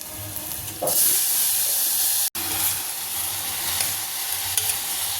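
Eggplant pieces drop into hot oil with fried onions and turmeric, setting off a loud, close, continuous sizzle with light stirring, broken by one brief cut near the middle.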